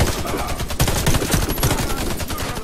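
Rapid automatic gunfire from the first-person shooter Warface during a mission against many enemies, a loud, dense and continuous burst of shots with no talk over it.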